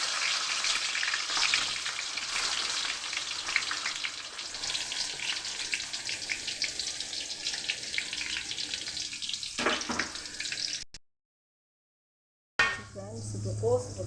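Onions fry in oil with curry leaves and mustard seeds, making a loud continuous sizzle with scraping for about ten seconds, then a brief silence and a quieter stretch with a voice.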